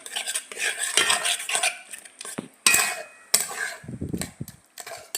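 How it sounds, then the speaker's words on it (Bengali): Utensil scraping and clinking in a cooking pot as tamarind water and taro leaves are stirred, with irregular scrapes, knocks and a faint sizzle, close and fairly loud. "এটাকেও ঠিক এরকম নেড়ে নেড়ে রান্না করতে হবে"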